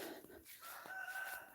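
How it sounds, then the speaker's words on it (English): A rooster crows in the distance, faint and drawn out beneath a soft background hiss. "there's one of the roosters"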